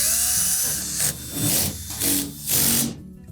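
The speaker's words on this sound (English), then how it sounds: "we'll just go ahead and install the rest of the retaining screws" Power drill driving retaining screws into a Whirlpool washer panel, several short bursts of whirring with brief pauses between, close and fairly loud, no talking.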